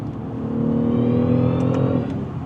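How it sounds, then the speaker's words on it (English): The turbocharged B58 inline-six in a 2025 BMW 550e xDrive plug-in hybrid revs up under acceleration, heard from inside the cabin as a smooth, rising engine drone with a faint electric whine, loud and steady with no talking. "the beautiful, beautiful soundtrack from the B58 fills the cabin, plus a little bit of electric sounds"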